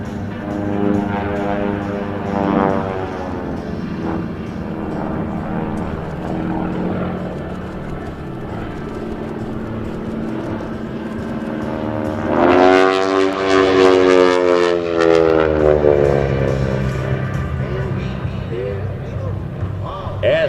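Geico Skytypers propeller airplanes drone overhead at the 2017 New York Airshow, a steady engine hum that swells into a loud close pass midway before fading, with an announcer talking throughout.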